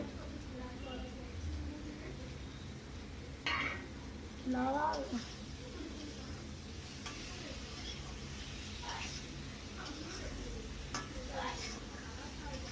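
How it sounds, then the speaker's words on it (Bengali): Pointed gourd pieces stirred through spiced oil in a pan, soft scraping and a low sizzle with a couple of brief clinks, all faint beneath steady background hiss. "এবার পটলটা দিয়ে নাড়াচাড়া করে নেব।"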